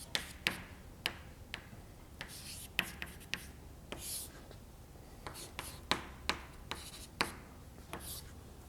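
Chalk or marker tapping and scratching on a board during a physics lecture on spinning particles, a quiet run of sharp, irregular strokes and taps with brief pauses between them.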